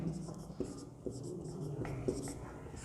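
Chalk or marker writing on a board during an eighth-grade maths lesson on linear equations, a quiet run of scratchy strokes with several distinct taps and scrapes spaced across the moment, close and soft in a small room.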